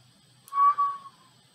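A single brief whistle-like call from an Antarctic seal underwater rises and trails off, faint against near silence, lasting under a second.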